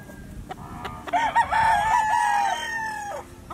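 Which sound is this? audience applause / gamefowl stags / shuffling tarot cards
gamefowl stags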